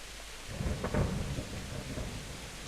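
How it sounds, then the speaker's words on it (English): A rumble of thunder rolls through steady rain in a medieval game world, the roll swelling briefly near the middle before settling back into the hiss of rainfall. "A bit of lightning there."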